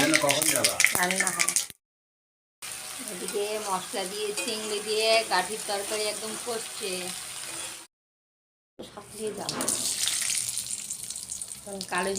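A spoon scrapes and stirs through taro greens with shrimp and onion in a sizzling pan, in close, steady strokes broken by two short silent gaps, with a faint trickle of water and some talk nearby.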